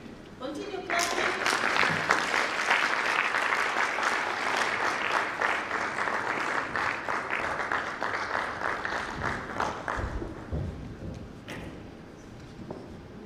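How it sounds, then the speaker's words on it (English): A hackathon audience at a sanitation project event claps for a foundation, a full burst of applause rising quickly, holding strong, then thinning into scattered claps before fading out. "Continue clapping."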